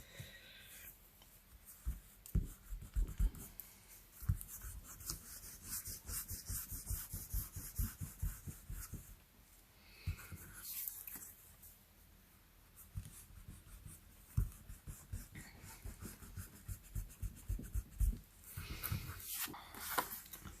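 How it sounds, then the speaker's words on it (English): A pencil eraser rubs back and forth on a paper card to remove pencil circle marks, making close, soft scratchy scrubbing strokes in quick irregular bursts with brief pauses. "let's erase those circle marks"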